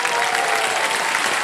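Studio audience on a game show breaks into loud, dense applause, a continuous roar of many hands clapping at once that stays even throughout.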